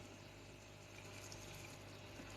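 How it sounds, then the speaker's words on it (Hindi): Water is poured into a pot of potatoes frying for an aloo anday bhujia, giving a steady, faint hissing and gushing wash with no speech. "अब मैं इसमें थोड़ा सा पानी ऐड कर दूंगी ताकि आलू जो है वो गल जाए।"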